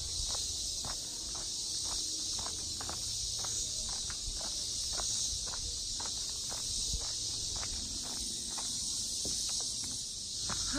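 Cicadas drone steadily in a continuous high buzz throughout, with footsteps crunching in the foreground as someone walks through a renovated butterfly garden outdoors.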